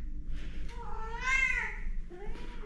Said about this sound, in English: We need to get a cat out of the kitchen.